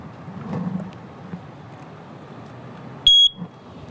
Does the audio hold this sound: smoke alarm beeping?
yes